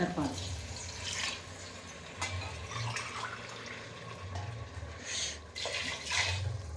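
Water pours into a rice pressure cooker for three glasses of rice, a soft splashing and trickling stream that runs steadily under nearby talking voices.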